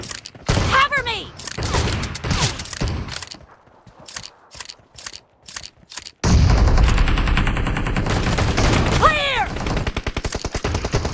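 M1014 shotgun firing in a video game, sharp loud blasts with mechanical clatter and ringing, interspersed with other gunfire and a short voice callout.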